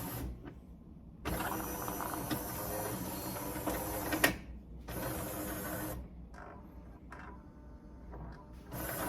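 Jura E8 coffee machine rinsing its coffee system, mechanical whirring and spraying in several bursts with quiet gaps between, close by.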